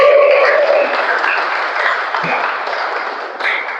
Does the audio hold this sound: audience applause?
yes